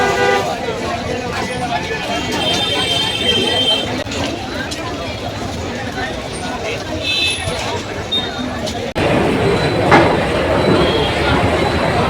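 A train rumbles and clatters at Dadar railway station in Mumbai amid busy platform noise, with horn toots, a sudden louder surge near the end and people talking throughout.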